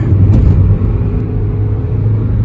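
A car engine accelerates in third gear during a highway-speed oil-burning test drive: a loud, steady low rumble with road and cabin drone, climbing toward 60 mph, no talking.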